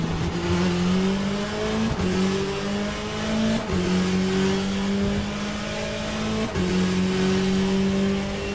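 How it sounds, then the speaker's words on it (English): A Porsche race car in the Le Mans Ultimate racing game roars loudly and steadily, its engine pitch climbing through the gears with sharp drops at each of several upshifts, and no one talks over it. "I like the look of that Porsche and also its sound"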